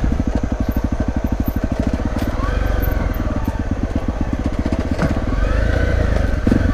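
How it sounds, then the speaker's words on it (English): A dirt bike's engine braking with the clutch out while descending a steep rutted trail, a steady loud rapid engine pulse throughout, near and continuous. "Leave that clutch out, let the engine brake do its thing."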